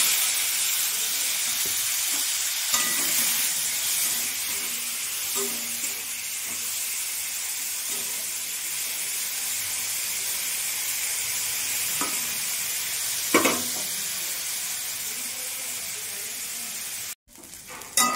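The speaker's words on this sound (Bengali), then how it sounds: "চিংড়ি মাছটা আমি তেলেতে দিয়ে দেবো।" Prawns rubbed with salt and turmeric frying in hot oil in a kadai, a loud continuous sizzle and hiss with occasional stirring knocks, ending in a sudden brief cutoff.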